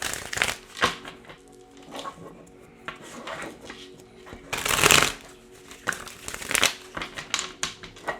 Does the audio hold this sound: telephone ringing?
no